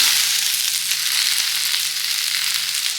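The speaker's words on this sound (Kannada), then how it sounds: "ಸ್ವಲ್ಪ ಒಂದು 15 ನಿಮಿಷದಷ್ಟು ನಾವು ಇದನ್ನು ಫ್ರೈ ಮಾಡ್ಕೋಬೇಕಾಗತ್ತೆ" Okra fries in a pan, a steady, close hiss of sizzling oil that holds evenly throughout with no voices.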